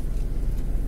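A car inches forward at low speed under careful clutch and brake control during a driving lesson, with a steady low engine rumble running continuously and close by.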